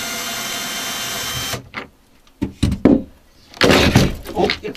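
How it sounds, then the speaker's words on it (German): A fly screen frame drops out of its window opening after the last screw is removed. Steady mechanical whirring first gives way to quiet, then a few dull thuds and clatters, followed by a longer rustling scrape as the frame comes loose. "Oh, jetzt fällt schon der Rahmen raus."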